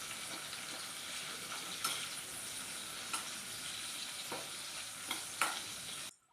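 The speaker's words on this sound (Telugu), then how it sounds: "గోల్డెన్ కలర్ వచ్చేంత వరకు కూడా ఫ్రై చేసుకుంటే సరిపోతుంది." Dried fish and drumsticks fry steadily in a pan until golden, giving a soft, continuous sizzle with occasional light stirring clicks, fairly quiet, with no voices.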